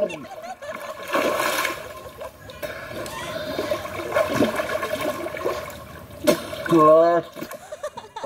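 Water splashes and sloshes as people take dips while bathing on a hot day, with a few stronger bursts among steady wet movement. Someone talks loudly over the splashing throughout.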